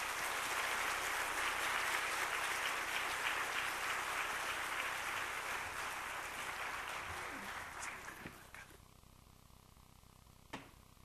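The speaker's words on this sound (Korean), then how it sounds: "우리 뜨거운 박수로 환영하도록 하겠습니다" A church congregation gives warm applause at a special night worship service, with loud, dense clapping that gradually thins and fades into scattered claps and room noise.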